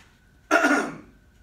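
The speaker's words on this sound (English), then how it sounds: "So the cough of a post-nasal drip" A single harsh cough caused by post-nasal drip bursts out close to the mic, then trails off into quiet.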